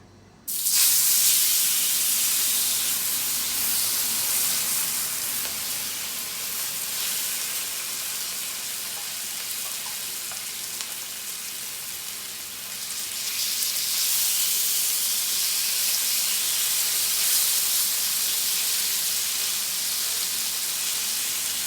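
Oil-soaked potatoes seasoned with paprika and garlic salt hiss loudly and steadily on a hot grill. The broad sizzle holds for the whole stretch and dips briefly midway.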